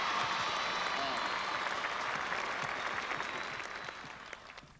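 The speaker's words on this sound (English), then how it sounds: "how about a great cheer for President Reagan?" Crowd cheering and applauding for President Reagan, a broad wash of clapping and voices that holds steady, then thins and fades toward the end.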